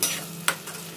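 Tomato being stirred into gravy in a frying pan gives a soft scraping swirl with a sharp spoon clink near the middle, over a faint sizzle, in one brief close stroke.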